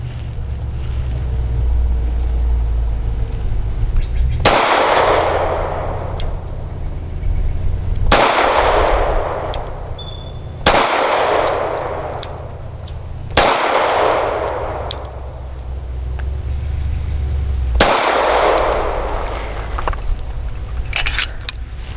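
Five loud, sharp gunshots from a Sig P320 pistol fitted with an Icarus grip module at a shooting range, spaced a few seconds apart, each with a ringing decay over a constant low rumble.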